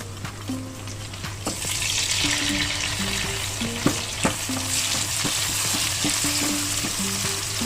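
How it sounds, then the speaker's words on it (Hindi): Tomatoes added to browned onions in a pan for Kashmiri mutton rogan josh: a loud, continuous sizzle with scattered spoon taps and scrapes. "अब इसमें मैं टमाटर डालूंगी।"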